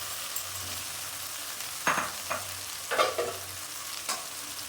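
Fried potatoes and chili powder stirred in a sizzling pan, a constant frying hiss broken by several distinct scraping strokes of the spatula against the pan, close up with no talking.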